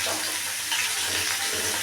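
Fish fries in a pan with a loud, continuous close-up sizzle that holds steady throughout over a faint low hum, with no talking.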